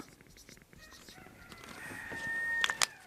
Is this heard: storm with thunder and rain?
no